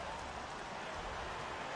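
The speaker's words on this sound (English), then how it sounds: "the rain starting to intensify here. It's coming down a little heavier now." Heavy rain comes down during a baseball game as a steady, dense hiss of drops on surfaces, even and unbroken throughout, fairly faint and with no clear talking.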